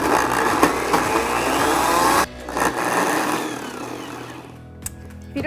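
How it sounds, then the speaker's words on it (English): A high-powered blender purees dates and onions into a smooth sweet and sour sauce, whirring loudly and steadily up close. It cuts out briefly partway through, then restarts at a somewhat lower, rougher drone. "So we're gonna put it into a high-powered blender."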